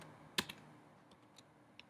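Terminal command typed on a Mac keyboard: a few sparse, quiet key clicks with one sharper tap near the start and soft taps trailing after, over a faint room hiss.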